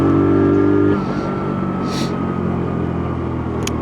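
A WK Colt motorcycle on a road test ride pulls away in third gear, its engine droning loudly and steadily close by, with a brief rise in rumble as power is wound back on.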